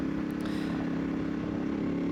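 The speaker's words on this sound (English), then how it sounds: "The sound from the exhaust is really loud." A Kove 450 Rally motorcycle exhaust rumbles loudly and steadily at close range, a sustained low drone with no talk over it.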